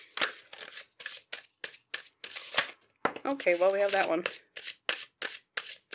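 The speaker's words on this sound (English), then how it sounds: "and then we'll shuffle some tarot cards out" Tarot cards being shuffled for a pick-a-card reading, a quick series of crisp riffling bursts close by, briefly broken by a person speaking partway through.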